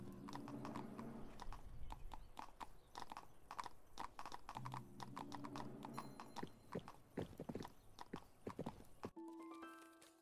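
Horse hooves clip-clop in a brisk, steady rhythm while riding in the video game 1428: Shadows over Silesia, loud and close, with snorts and a whinny mixed in before an abrupt cut to a short musical tone.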